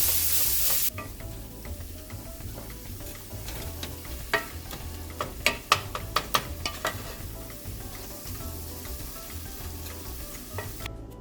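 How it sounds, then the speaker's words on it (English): Ground spices including cinnamon and allspice sauté in a hot pan, a steady sizzle punctuated by sharp scraping clicks of stirring in the middle stretch, with no talking. "Then we're going to saute it until it cooks fully."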